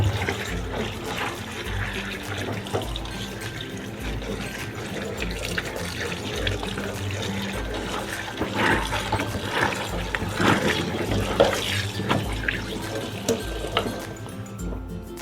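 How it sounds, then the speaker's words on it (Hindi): Mallow leaves are rinsed under a running kitchen tap, water streaming steadily into a sink with the soft splashing and rustling of leaves being rubbed clean, continuous and close, with no talk. "तो अब मैं सोंचल को धोऊँगा"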